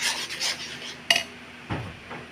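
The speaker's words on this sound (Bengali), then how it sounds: "এবার আমি তালের মাড়ি দিয়ে দিলাম কড়াইয়ে। গ্যাস ওভেনে চাপিয়ে নাড়তে থাকলাম।" Palm fruit pulp stirred in a wok over a gas stove, soft rubbing and scraping of a spatula against the pan with a couple of sharper clinks, close and quiet.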